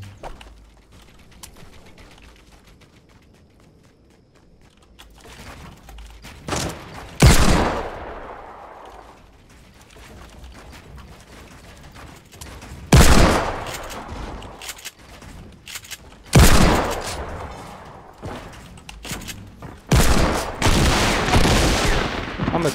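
Gunfire in a competitive Fortnite match: scattered loud bursts of rapid shots and sharp single blasts separated by quieter stretches, close and punchy, with no talking.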